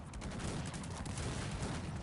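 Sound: gunfire from a video game battle

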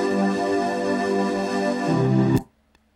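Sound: UJAM Usynth Euphoria synth pad preset

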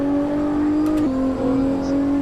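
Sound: car engine revving in racing video game

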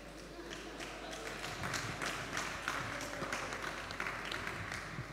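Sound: audience applause

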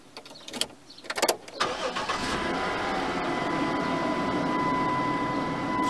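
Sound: car engine starting after turning the ignition key

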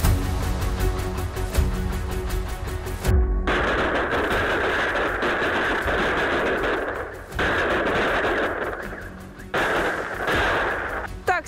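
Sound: fireworks and salutes set off for Christmas

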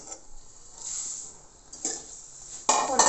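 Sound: roasting puffed rice with spices in a pan

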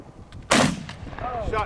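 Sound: shotgun shot fired at a clay target

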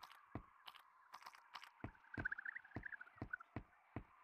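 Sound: bird noise from the Gorilla Tag video game

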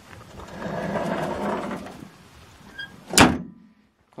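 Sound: Triumph Dolomite 1300 bonnet locking mechanism closing

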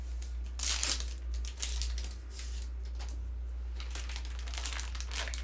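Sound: crinkling plastic packaging, trying to open it

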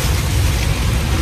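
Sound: heavy rain pouring

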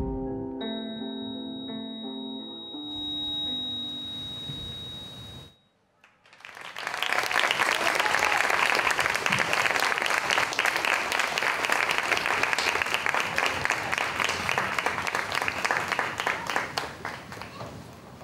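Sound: audience applause after a dance performance

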